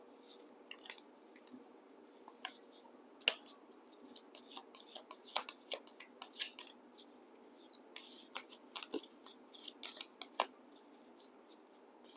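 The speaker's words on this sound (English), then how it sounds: "Those are obviously a bit harder to shuffle." Heart-shaped oracle cards are shuffled by hand, giving a long run of soft papery riffles and clicks, close and quiet, uneven in rhythm.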